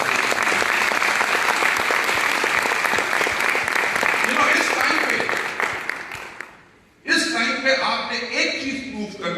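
An audience at a large corporate company event claps loudly and densely for several seconds. The applause fades out, and after a short gap a voice speaks over a microphone.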